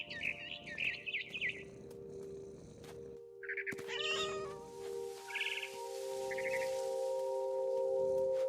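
A cat meowing in the video game What Remains of Edith Finch, a few short plaintive meows alongside brief bird chirps over a held musical tone, growing fuller toward the end.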